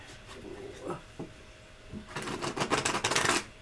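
Playing cards being shuffled at a table, a few soft riffles and taps early on, then a louder dense burst of rapid riffling near the end, fairly close with no talk over it.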